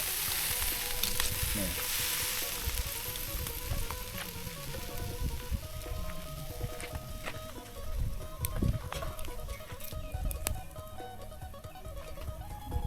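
Spicy eel stir-fried in a hot wok with holy basil leaves, a steady dense sizzle with scraping and stirring clatter throughout, close and fairly loud, with no talk.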